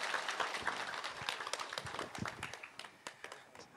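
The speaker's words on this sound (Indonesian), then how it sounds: "Tepuk tangan untuk Kak Eno." Scattered audience clapping at an Islamic boarding school graduation ceremony, uneven and somewhat distant, with sharp individual claps standing out over a busy crowd background.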